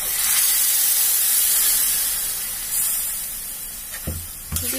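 Water poured into a hot pan of greens cooked with mustard paste sends up a loud, broad rushing hiss of steam that slowly fades, followed by a couple of brief clatters near the end.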